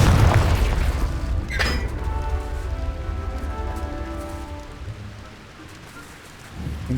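Confringo spell explosions from Hogwarts Legacy give a heavy booming blast at the start with crackling debris and rumble trailing off, then another low thump near the end.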